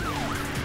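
A police car siren wailing in the racing game Need For Speed: Rivals, one falling then rising sweep heard close over engine rumble, loud and brief.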